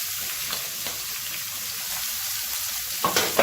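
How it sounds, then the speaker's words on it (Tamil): Garlic cloves sautéing in hot oil in a pan, a steady close sizzle with a few soft stirring scrapes and a louder clatter near the end, no voices. "இது எல்லாமே நல்லா வதங்கட்டும். பூண்டு பல் லேசாக வதங்கினதும்"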